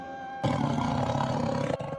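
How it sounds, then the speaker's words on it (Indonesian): A tiger growls in a deep, rough, sustained roar that starts abruptly and rolls on loud and close for about a second and a half before breaking off. "mendengar suara geraman seekor harimau"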